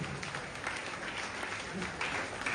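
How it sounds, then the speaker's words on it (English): An audience claps steadily and densely at a stage felicitation ceremony where a shield is presented, a continuous wash of many hands with no pauses over the whole stretch. "Give big claps to Jashwant"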